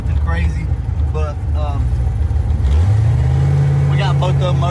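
Turbocharged car engine revs up from a low rumble to a rising, sustained roar, close and loud, while people talk over it.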